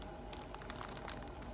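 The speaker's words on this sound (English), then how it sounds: "It's terrible when you get so old you can't work a plastic bag." A plastic bag crinkles and rustles continuously at close range, with crisp scattered crackles over a low steady background and no talking.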